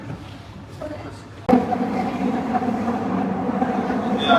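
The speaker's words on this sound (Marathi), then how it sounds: "तर मेट्रो निघालेली आहे जंक्शनवरून" A Mumbai Aqua Line metro train pulls away from a junction, its steady rumble and hum starting abruptly and running continuously at moderate loudness, heard from inside the carriage.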